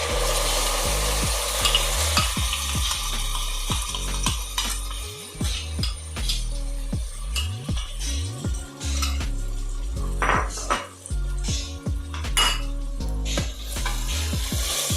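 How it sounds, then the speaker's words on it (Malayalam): Ground coconut paste stirred into fried onions for biryani, with a constant close sizzle broken by many sharp clinks and scrapes of a metal spoon against the pot, busy and irregular. "തേങ്ങ അരച്ച് വെച്ചേക്കുന്നത് ഇതിനകത്തേക്ക് ഒഴിച്ചു കൊടുക്കാം"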